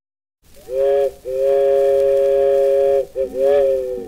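A train whistle is imitated on an early country string-band recording, a loud, near, steam-whistle-like wail of several sustained blasts with a short break before a final call.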